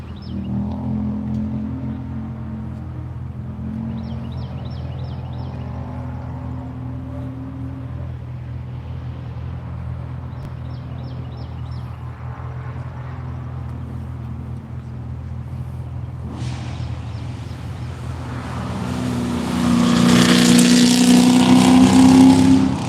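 Race car circling the VIR track during a morning session, a distant engine hum and faint rhythmic blips building to a loud, close pass with a high sustained engine whine as it crosses the line.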